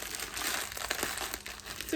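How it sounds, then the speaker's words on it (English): Red velvet cake mix package being torn open by hand without scissors, a steady crinkling, crackling plastic-and-paper sound up close, continuous for about two seconds with no talking. "we're gonna go ahead and open up our red velvet cake mix"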